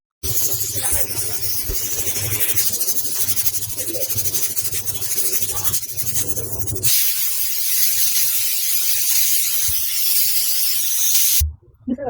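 A pressure cooker cooking beef lets out a long, loud, continuous steam whistle hiss that keeps going, pauses briefly, then surges again before stopping.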